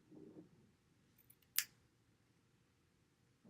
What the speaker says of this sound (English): Probably just gonna cut right there.